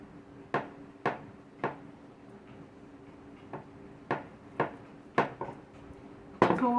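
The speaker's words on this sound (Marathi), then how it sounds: "जसं आपण नेहमीप्रमाणे चपाती लाटतो त्याप्रमाणेच चपाती लाटून घ्यायची आहे।" Chapati dough being rolled out with a rolling pin, heard as a series of sharp wooden taps and knocks spaced about half a second to a second apart, fairly quiet, with a brief clatter near the end.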